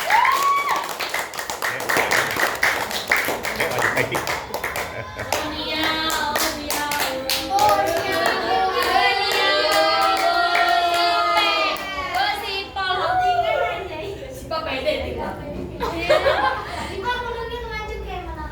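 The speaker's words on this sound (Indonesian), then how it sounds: "boleh tepuk tangan untuk komponen." Classroom audience clapping during a grade eight science presentation on light and optics, with sharp individual hand claps scattered through the room, chuckling and several voices talking and singing over them.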